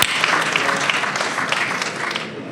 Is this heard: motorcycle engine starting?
no